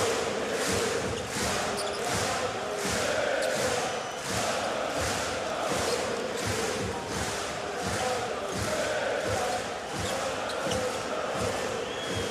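A packed Euroleague basketball arena for Red Star Belgrade against Anadolu Efes roars with a continuous, loud crowd din, steady rhythmic thumps of chanting or drumming, and sneaker and ball noise beneath it.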